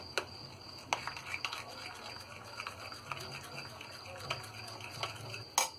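A spoon scrapes and taps in a bowl while flour gets mixed into cooled rabri batter for malpua, soft irregular clinks and swishes at close range, with a sharper knock near the end.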